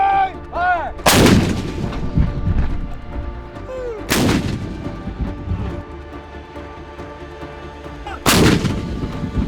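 Field artillery of the 1-101st fires direct on a range in Kenya: three heavy, booming cannon blasts spaced a few seconds apart, each followed by a rolling rumble.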